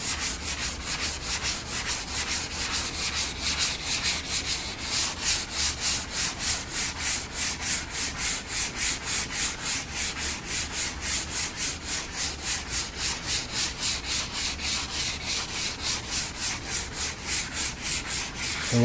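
Hand sanding a drywall patch smooth on a wall, a steady back-and-forth rasping scrape repeating in quick even strokes, close and continuous without any talk.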